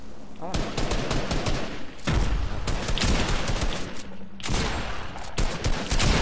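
Rapid gunfire in a video game fills the clip with dense, loud bursts of automatic shots and sharp cracks, nearly continuous with brief lulls, while a voice is faintly heard underneath.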